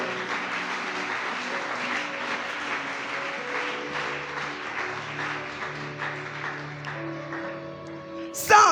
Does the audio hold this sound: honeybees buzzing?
no